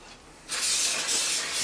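After a quiet moment, a spray nozzle lets out a steady hissing burst of car cleaner, close by and fairly loud, with a slight flutter.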